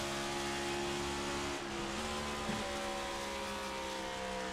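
A race car at Homestead-Miami Speedway, engine drone with shifting pitch as it downshifts into the corners, steady and fairly distant, no voices.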